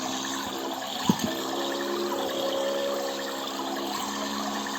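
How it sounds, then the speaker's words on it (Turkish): Water splashes and rushes steadily inside a toy with its lid open, a continuous close wash of liquid with a couple of small knocks early on. "Kapağınızda açık tutarsanız su sıçrıyor."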